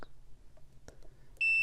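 A continuity tester beeps once on a perfboard 8-bit computer build, a sudden steady electronic tone that starts after quiet hum and light handling noise.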